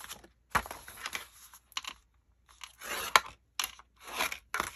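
Scissors cutting through thin patterned scrapbook paper for a mini clutch envelope pocket, heard as close, crisp snips and rustles in separate short bursts with quiet gaps between them.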